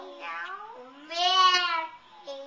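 A voice imitates a cat's meow in a few drawn-out, wavering cries, close and fairly loud, with a short pause between calls.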